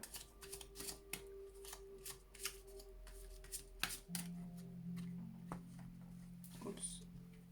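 Oracle cards being shuffled for a tarot-style reading, a run of quick papery riffles and flicks close by, with a voice talking over them throughout.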